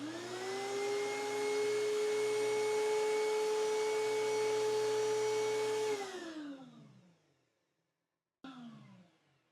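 A DeWalt 735X thickness planer runs with no wood feeding through, a loud steady motor whine that winds down after about six seconds, then a brief restart that fades again.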